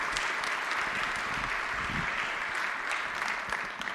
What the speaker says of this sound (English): So please give a warm round of applause of welcome to Artie Boyle.